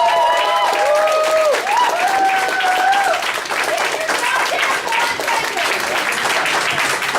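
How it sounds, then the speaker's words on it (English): Audience at a lodge benefit showcase gives a round of applause, a sustained wash of clapping and crowd noise, with a voice speaking over it. "So a round of applause for the Knights of Pythias."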